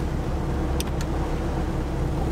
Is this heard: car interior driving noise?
yes